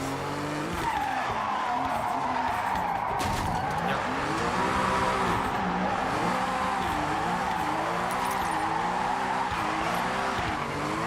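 A car drifting in Forza Horizon 6 roars near its redline, engine revs rising and falling in waves under constant loud tire squeal and skidding, sustained for the whole stretch with no talk.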